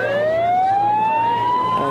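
A police car siren wails loudly and close by, one steady rising tone sustained through the whole short stretch over a low vehicle rumble.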